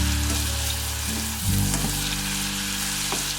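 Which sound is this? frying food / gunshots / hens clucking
frying food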